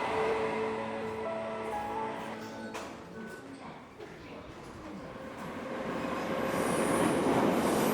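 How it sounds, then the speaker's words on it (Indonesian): A Beijing subway train runs along the track, a rumbling underground ride with squealing wheels early on that settles into a steady roar and swells louder toward the end. "jutaan penumpang yang setiap hari menggunakan kereta bawah tanah Beijing"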